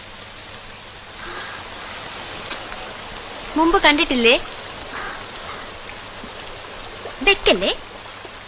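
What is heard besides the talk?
rain falling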